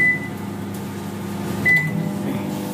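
A microwave oven reheats meat, humming steadily at close range, with two brief high beeps and a faint click near the end.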